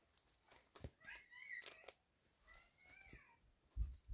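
A cat meows faintly several times in a quiet setting, short rising calls spaced across a few seconds, with a couple of soft thumps at the end.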